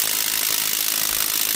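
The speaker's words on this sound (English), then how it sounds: "If I can turn the drill the right way." A smaller cobalt drill runs continuously while working on oil pan bolts of a 2007-2011 Ford Edge or Taurus at a junkyard, giving a loud, steady, close-up mechanical whir.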